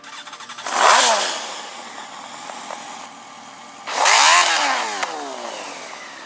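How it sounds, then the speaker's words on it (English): NASCAR Xfinity Series race car engines fire up before the start, giving a loud roaring, revving surge that fades and then rises again a few seconds later, with engine noise continuing between the two bursts. "Looks like the engines are already fired up for tonight."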